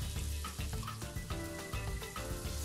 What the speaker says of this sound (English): Stir fry them until it turns golden brown.